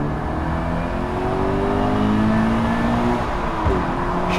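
A Toyota GT86 with its standard exhaust is driven at full throttle through a tunnel. From inside the cabin the engine drone climbs steadily in pitch, loud and continuous, with a brief shift near the end.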